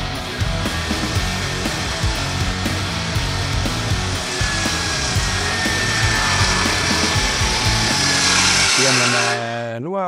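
A SKIL power saw cuts through wood, a loud continuous motor whine with rasping blade noise that runs steadily for about nine seconds before winding down, while people talk in the background.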